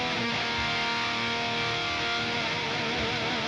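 Distorted electric guitar runs through two parallel amp paths on a Line 6 Helix, producing a wide, layered tone with a continuous strummed texture for a few seconds, and no voices.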